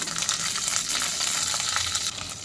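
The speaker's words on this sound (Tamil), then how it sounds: "எண்ணெய் காஞ்சதும் கடுகு காஞ்ச மிளகு ஆட் பண்ணிட்டேன்" Mustard seeds and dried chillies sizzle in hot oil in a pan, a loud continuous crackling hiss filling the whole stretch without talk.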